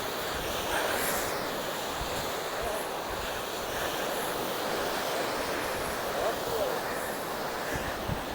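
Steady roar of evening sea surf washing in continuously on a seashore, with wind buffeting the microphone throughout; no distinct voices stand out.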